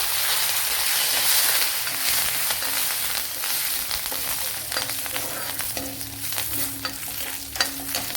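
Dried red chilies hit a pan of browned shallots for a duck egg stew, giving a steady, bright sizzle throughout, broken by occasional stirring scrapes and clicks of a spoon.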